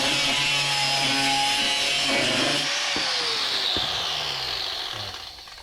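A power tool cuts through a section of Mitsubishi Pajero bodywork during welding repairs, giving a loud, steady high-pitched grinding whine with shifting tones that fades toward the end.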